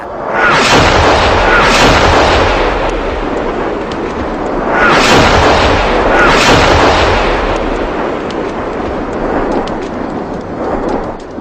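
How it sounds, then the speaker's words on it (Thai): Artillery shells explode in a loud, continuous barrage, with rolling booms and repeated heavy blasts overlapping into a dense roar that swells and fades across the whole stretch. "พลันแตกกระเจิงด้วยเสียงระเบิดของหาฝนเหล็กที่ตกลงมาทั่วทุกย่อมหญ้า"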